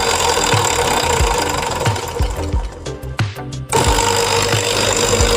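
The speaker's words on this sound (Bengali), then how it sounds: "সুইচ মারলে মোটর চালু হয়ে যাবে।" Hydrant pump motor switched on and running, a loud continuous mechanical drone with regular knocking pulses, briefly unsettled midway before settling back into a steady run.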